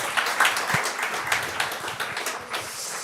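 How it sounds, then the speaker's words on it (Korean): A congregation at a Christmas church service claps in a short burst of warm applause, close and lively at first and then thinning out over a few seconds. "다시 한번 박수 부탁합니다."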